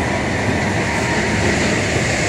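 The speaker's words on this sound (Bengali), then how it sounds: "এই দেখো, মেট্রো ঢুকে গেল।" A Kolkata metro train pulls into the station with a steady, loud rumble and roar of wheels and motors that fills the platform, continuous throughout with no talking.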